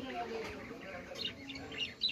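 Two small pet birds chirp and squawk in short, scattered calls indoors, fairly faint and mixed with a person talking nearby.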